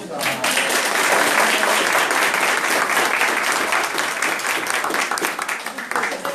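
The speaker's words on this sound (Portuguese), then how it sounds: "Salve de palmas." Audience at a talk breaking into a burst of applause, dense and loud from the start and sustained throughout, with a voice briefly audible over the clapping.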